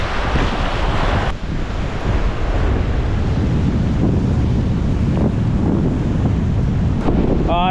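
Strong wind roars steadily across the microphone, loud and close, with a constant low buffeting rumble and a faint wash of water beneath.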